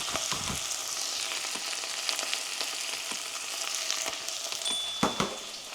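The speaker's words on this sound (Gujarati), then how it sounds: "ભીંડાને મિક્સ કરી દઈએ તેલમાં" Okra sizzles and crackles steadily in hot oil with fenugreek, a dense close-up fry with a few clinks of stirring near the end.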